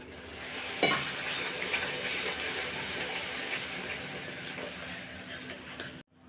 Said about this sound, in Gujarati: અને હવે આપણે આ આંબલીનો પલ્પ છે ને એ બધું નાખી દેવાનો છે.